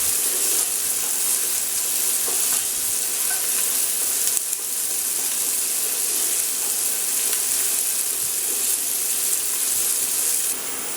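Onions fry on high heat on an induction cooker for a Greek pastitsio meat sauce, giving a steady, close, dense sizzle with faint stirring scrapes and no voices.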